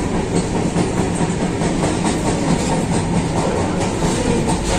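Darjeeling Mail rolling along the rails at dawn, heard from inside a carriage as a loud, continuous rumble with a steady clickety-clack rhythm and no voices.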